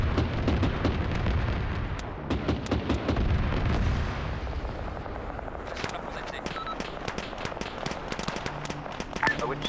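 Gunfire rings out in a military video game set in Russia: rapid, sharp shots and bursts of automatic fire, some near and some distant, with heavier booms early and sparser cracks later.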